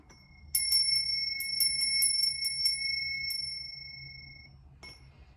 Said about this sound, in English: And we're going to ring the bell.